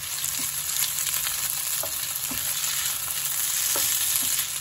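Hungry Jack hashbrown potatoes frying in vegetable oil in a skillet, a dense, even sizzle with a few light scraping taps, close and steady throughout, no voices.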